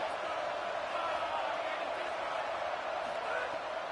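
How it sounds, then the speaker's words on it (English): A packed college football stadium crowd roars steadily and loudly throughout, a dense unbroken wall of noise with a commentator's voice running over it. "The roar of the crowd trying to fuel this defense to keep them pinned in their own end."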